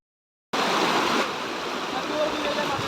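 Zenith waterfall near Mumbai in monsoon flow, a steady, loud wash of rushing water that starts abruptly after a short silence and holds broad and constant.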